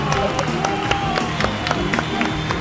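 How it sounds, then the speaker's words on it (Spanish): Studio audience on a television debate show applauding and cheering the winner, a dense, loud burst of clapping with excited crowd voices mixed in, ongoing throughout. "¡César! ¡Un aplauso!"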